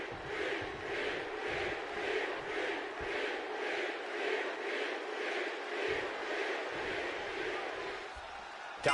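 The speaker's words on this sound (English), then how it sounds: "And obviously the crowd supporting Jey Uso" An arena crowd in the WWE 2K26 wrestling video game cheers and chants steadily in rhythmic swells, loud and continuous with no break throughout.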